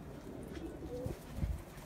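Pigeons in a loft cooing softly, low throaty coos repeating at moderate distance over a quiet background hum, no voices.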